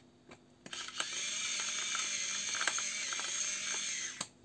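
A pepper mill grinds pepper over eggplant with minced meat and tomatoes, a steady dry ratcheting crunch lasting about four seconds, close and alone, with a few sharper clicks at the start and end.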